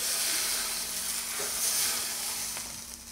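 Hot oil hits raw saltfish choka in a Trinidad kitchen, giving a steady, close, bright sizzle and hiss that holds for a few seconds, then eases slightly.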